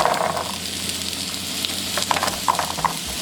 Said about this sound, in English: So I'm just going to put a bunch of these in the pan and let them cook up.